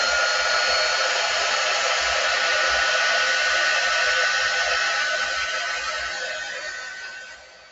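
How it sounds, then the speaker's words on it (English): A quick dry heat tool blows a loud, steady, airy hiss while drying chalk paste, running evenly before tapering off toward the end. "Let me get my quick dry tool plugged in. I'm going to give that a good dry."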